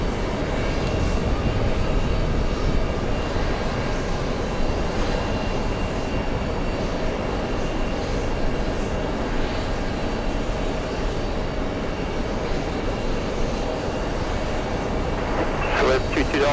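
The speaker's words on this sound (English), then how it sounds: "Back-to-back A380s on 22 left. Here comes Emirates." Emirates Airbus A380 landing at JFK, a continuous broad low engine rumble with faint talk near the end.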